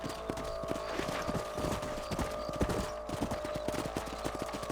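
Horse hooves gallop at a steady, rapid clip-clop in the Red Dead Redemption video game, close and continuous over a constant bed of ambient game sound.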